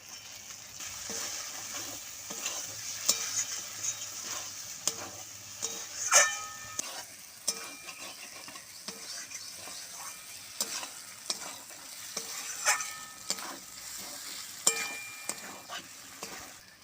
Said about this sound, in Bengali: আলু দিয়ে আমি আরও কিছুক্ষণ কষিয়ে নেব